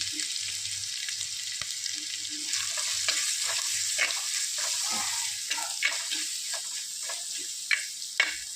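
Lemon pickle ingredients with turmeric sauté in a pan, a steady sizzle under repeated scraping and clicking stirs that grow busier and sharper toward the end.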